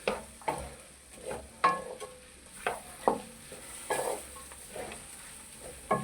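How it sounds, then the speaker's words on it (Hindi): Half a kilo of chopped okra cooking in a pan, a soft sizzle broken by regular spatula strokes roughly every second. "भिंडी जो मैंने आधा किलो काट के रखी है ये डाल देनी है"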